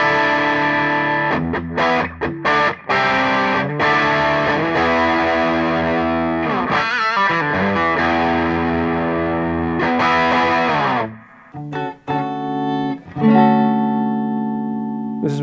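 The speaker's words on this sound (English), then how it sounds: "even though it has a nice overdrive sound." A Pinter electric guitar played with overdrive strums thick, sustained distorted chords, loud and continuous, with brief breaks and choppier strokes near the end.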